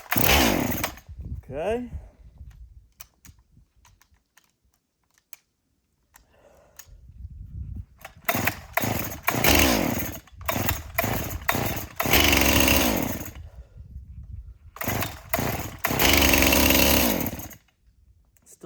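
A STIHL MS 261 C-M chainsaw, smoking white after a new spark plug on the same fuel, revs in loud repeated bursts between idle stretches, with a brief voice at the start.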